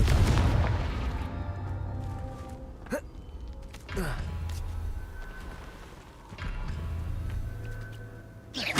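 Confringo blasting spells explode in Hogwarts Legacy: several deep booming blasts, one big burst at the start, then sharp cracks around three and four seconds and another heavy boom later, each followed by rumbling decay.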